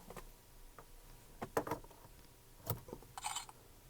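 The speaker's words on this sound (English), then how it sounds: "Oh, I heard a little unlocking noise." A few faint, sharp clicks from an ESL emulator on a Mercedes-Benz W204 C300 as the key is inserted, scattered quietly over a near-silent background.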